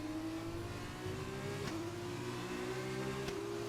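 Formula 2 car in an Xbox racing game, engine held at full throttle in fifth gear, a steady high-pitched whine that rises slowly, loud and continuous with no talking.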